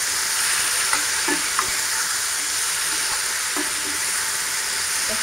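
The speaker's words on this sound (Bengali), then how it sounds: "একটু ভাজা ভাজা হতে দেবো।" Spices and green chilies frying in a pan, a constant loud hissing sizzle with a few soft clicks of stirring, close up and with no voices.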